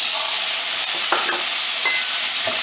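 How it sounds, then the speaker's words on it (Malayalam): Tomatoes tossed into a hot pan for a Kerala vegetarian lunch dish, giving a steady close sizzle with a few brief scraping stirs of the spatula, with no voices. "തക്കാളി ഇട്ട് കൊടുക്കാം."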